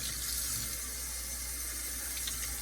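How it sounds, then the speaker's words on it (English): Tap water runs steadily through sausage casings, a constant soft hiss and trickle at moderate distance, uninterrupted for the whole stretch. "we'll just let the water run for a little while"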